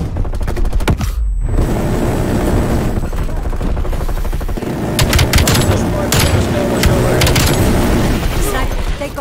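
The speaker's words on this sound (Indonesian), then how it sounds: "Starting up death machine" A Death Machine minigun in Call of Duty Cold War multiplayer fires in loud, sustained rapid bursts amid battlefield noise, with a short pause near the start before heavy firing resumes.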